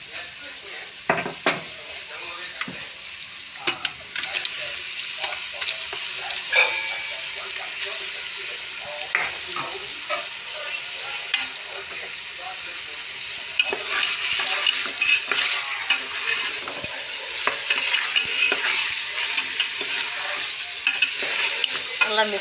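Spice-marinated chicken frying with tomatoes in a pot for biryani, stirred vigorously with a metal spoon: a loud, dense sizzle runs throughout, broken by repeated scraping and clanking against the pot, with a voice speaking at times.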